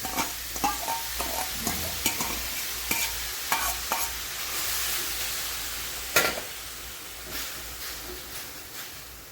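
Grated raw mango for gulamba being stirred in a kadhai over medium heat: a rapid series of spatula scrapes and knocks over a faint, continuous frying hiss, close and clear, with no speech.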